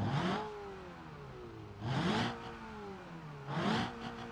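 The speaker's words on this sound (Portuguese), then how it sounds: "vamos dar uma olhadinha no barulho do motor." A modded Renault Megane engine in a racing video game revs three times, each rise swelling to a higher whine then dropping back to a steady idle hum, fairly quiet and with no talking.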